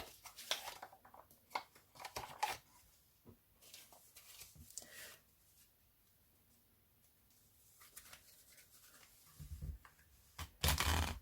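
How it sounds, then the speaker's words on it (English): Slick tarot cards being shuffled by hand, with short papery riffles and slaps that come in uneven bursts between quiet pauses, close up. "These ones are a bit more slick, so a bit harder to shuffle."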